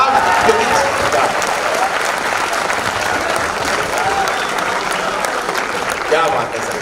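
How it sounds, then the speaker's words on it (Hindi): A crowd at a Hindi comedy poetry gathering claps together, loud dense applause sustained evenly throughout with faint voices mixed in. "एक बार जरा मिलके ताली बजाओ साहब।"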